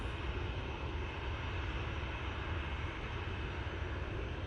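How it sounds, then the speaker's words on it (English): A jet airliner at Manchester Airport produces a steady, broad engine roar that holds evenly throughout, with no voices. "It's just an absolutely beautiful aircraft."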